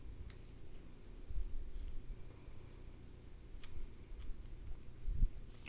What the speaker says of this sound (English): these are such bad scissors.